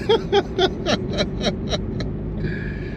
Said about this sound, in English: just the sound of the car